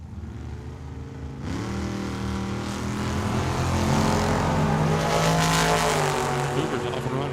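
A dragster and a Cougar launch on a drag race run at Tucson Dragway, with loud engines erupting suddenly and rising into a sustained roar as they accelerate, a commentator talking over them.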